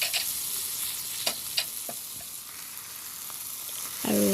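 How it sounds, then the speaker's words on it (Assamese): A mashed potato mixture is stirred in a frying pan, giving a steady close sizzle with a few soft scraping strokes of the spoon and no voices. "আৰু এইখিনি ভালদৰে মিক্স কৰি লৈছোঁ আৰু লৰাই"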